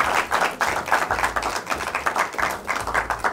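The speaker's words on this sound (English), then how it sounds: "A round of applause for them." Applause for the University of Ghana team after winning a law challenge semi-final, heard as a smallish group clapping in distinct, uneven bursts with individual claps standing out, close and moderately loud throughout.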